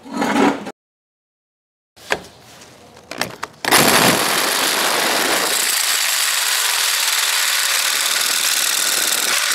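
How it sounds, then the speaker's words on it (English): A 1.5-inch hole saw on a drill bores through metal on a turbo build, starting with short bursts and pauses before settling into a loud, continuous grinding whir that runs to the end. "Now we're going to get a hole saw, an inch and a half hole saw,"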